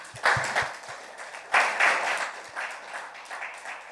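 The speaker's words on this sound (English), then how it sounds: "Okay, let's clap them up," Scattered audience clapping in a meeting hall comes in a few uneven bursts, rising and fading across the short stretch, moderately close with some low knocks at the start.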